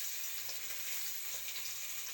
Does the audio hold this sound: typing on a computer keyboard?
no